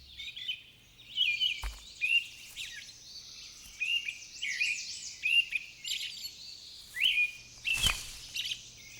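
A magpie, or small birds, calling outdoors in repeated bursts of bright chirping notes, fairly close, with brief sharp knocks between calls.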